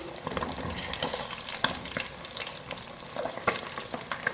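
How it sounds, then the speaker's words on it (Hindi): Spicy Lahori masala fish, marinated in ginger-garlic and green chilli paste, frying in a pan over medium flame: a steady close hiss of sizzling oil with scattered crackles and spits, plus a few louder taps and scrapes around the pan, with no talking. "2 से 3 मिनट और मज़ीद हो चुके हैं फ़िश को फ्राई होते हुए"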